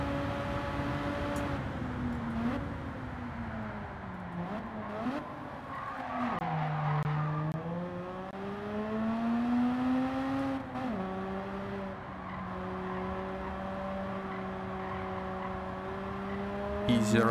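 A Mazda RX-8 race car in Gran Turismo 7 holds a steady high rotary engine whine that dips and climbs with shifts and cornering, with tire squeal and a voice talking over it.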